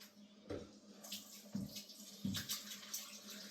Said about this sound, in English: So now wash the potatoes.